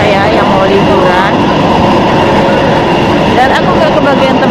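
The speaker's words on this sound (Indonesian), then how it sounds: "jadi aku udah naik kereta" A moving train in Taipei rumbles with a loud, constant roar from inside the carriage, with faint wheel squeals rising and falling and a brief rattle near the end.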